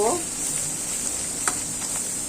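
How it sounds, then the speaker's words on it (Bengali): Spice paste of turmeric, chili, salt, green chilies and ginger-garlic paste sizzles steadily in hot oil with crisp fried onions for a potato fry, with a brief scrape of stirring partway through. "আলু ভাজি করার জন্য মশলাটা কষাইতেছি"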